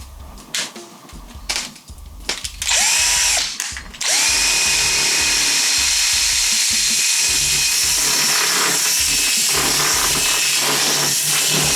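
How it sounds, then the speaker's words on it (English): A power drill bores through a snare drum shell, starting with a few short stop-start bursts before settling into a loud, steady whine that runs without a break. "so I might have to drill it as big as I can and then file it"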